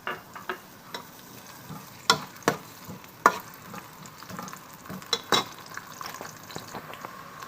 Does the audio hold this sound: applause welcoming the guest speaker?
no